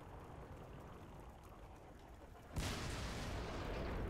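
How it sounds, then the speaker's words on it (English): Artillery shell in the tank game World of Tanks, a low rumbling din that suddenly jumps into a loud, broad blast partway through and stays heavy to the end. "That piece of artillery has a shot incoming."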